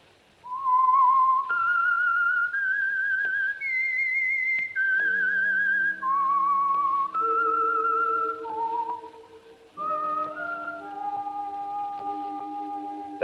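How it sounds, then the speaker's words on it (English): Whistled theme signal of The Whistler radio program, heard as a lone, eerie melody of long sustained and gliding notes climbing and then falling, clear and prominent, with a lower orchestral accompaniment joining partway through. "That whistle is your signal for the Signal Oil program, The Whistler."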